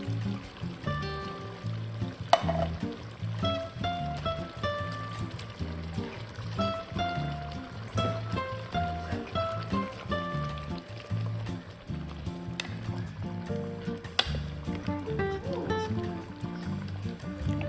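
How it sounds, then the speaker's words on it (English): Pumpkin chili with tomato sauce, diced tomatoes and rinsed red kidney beans is stirred in a pot, giving a soft continuous wet churning and scraping with occasional clinks of the spoon against the pot. "I'm going to go ahead and just stir this together and add my tomato sauce, my diced tomatoes, and my rinsed red kidney beans"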